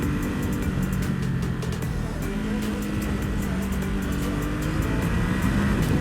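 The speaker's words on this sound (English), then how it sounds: "God, that twin motor is so punchy." A 2020 Ducati Supersport S twin engine drones steadily along a twisty road, with wind rushing and engine pitch rising and falling slightly as the bike leans through bends.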